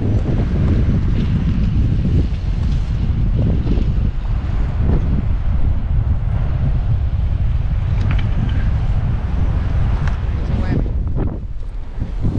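Strong wind buffets the microphone outdoors on the coast at Anchor Point, Alaska, a loud, continuous low roar with gusts that fills the whole stretch and drowns everything else.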